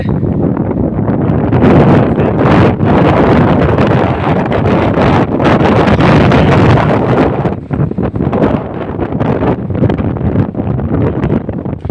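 Strong storm wind during a rainstorm roars and buffets the microphone continuously, loud and gusty throughout with no pauses.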